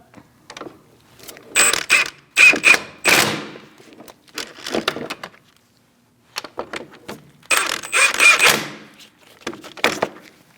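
A wrench tightens the brake caliper bolts on a 2000-2006 Mini Cooper, giving bursts of rapid ratcheting clicks in separate runs with short pauses between them, close and fairly loud in a quiet garage.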